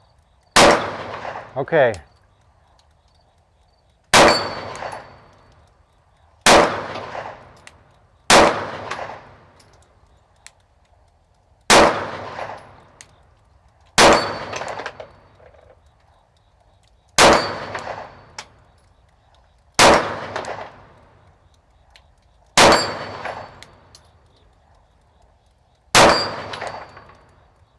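Pistol shots at an outdoor range, each sharp report followed by a ringing steel target, about a dozen evenly spaced loud shots with brief pauses between, and a short spoken word among them.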